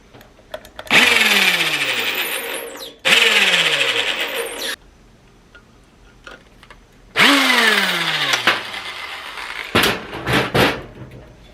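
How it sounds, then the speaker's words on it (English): A drill bores a roughly half-inch hole through a Honda/Acura fuel pump sending unit. Three loud bursts sound close up, each winding up and then bogging down, separated by short pauses, followed by a few quick trigger blips. "So I have to drill a hole big enough so I can fit that through."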